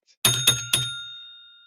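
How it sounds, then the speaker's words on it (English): Three quick strikes of a bright bell rung to mark a correct answer in a Formula 1 quiz, each ring overlapping the last and leaving a long, clear metallic tone that fades out. "Ring the bell."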